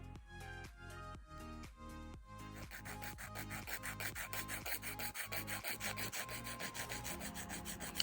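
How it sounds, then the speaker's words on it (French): A nail file rasps back and forth across a semi-permanent polish nail extension in quick, steady strokes, close and fairly faint, with a soft musical backing underneath. "Donc pour limer, je vais tout simplement retravailler surtout mon extension."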